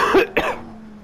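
Two sharp coughs in quick succession, close and fairly loud, during a racing game session, followed by a steady low hum from the game.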